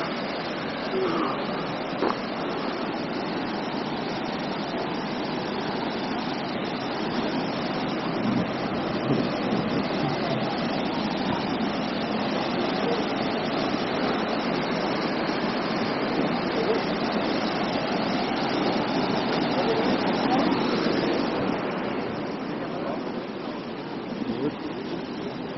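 The Triberg waterfalls rush in a broad, continuous roar, heard at a moderate distance with wind across the microphone and occasional people talking nearby.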